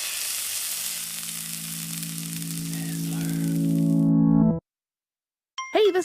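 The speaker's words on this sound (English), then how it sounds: "Casey, can we get a sizzle sound cue?" A sizzling sound effect, like food frying on a hot pan, plays alone as a podcast cue, swelling louder before cutting off abruptly, followed after a short silence by a brief bright chime.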